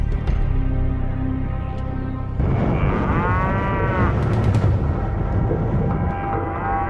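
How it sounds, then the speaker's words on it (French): Cattle in a meadow north of Phoenix moo in several long, drawn-out calls that rise and fall, loud and close, layered over a rumbling low background, with no speech. "Cette prairie à vaches à 3 heures de route au nord de Phoenix"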